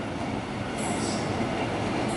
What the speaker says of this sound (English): with express trains going through